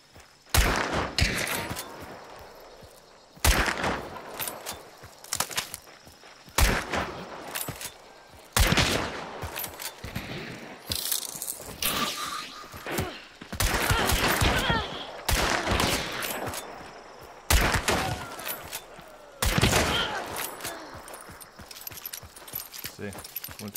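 Lever-action Winfield rifle fire in the game Hunt: Showdown, with sharp, loud shots spaced a few seconds apart, mixed with the metallic clack of levering and someone talking between them.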